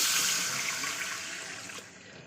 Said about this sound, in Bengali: এবার আমি দিয়ে দেবো এক গ্লাস পরিমাণ গরম জল অবশ্যই গরম জল অ্যাড করতে হবে তো চলুন জলটা দিয়ে দিই দিয়ে দিলাম জল